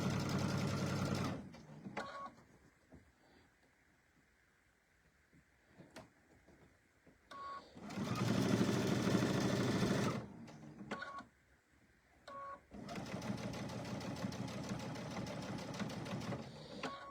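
Sewing machine stitching a seam on a quilted mini tote bag, with three bursts of steady, close mechanical whirring separated by pauses filled with quiet handling noises.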